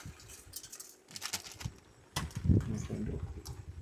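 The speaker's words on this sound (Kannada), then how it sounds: "ಮಳೆ ಭಯಂಕರ ಇದೆ." Heavy rain patters steadily at a rainy-day campsite, a dense broadband hiss that swells louder in the second half, with no talk over it.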